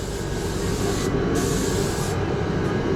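A spray gun applies a heavy coat of primer onto MDF inside a homemade spray booth, producing a loud, close, continuous hiss broken by two brief pauses in the spray.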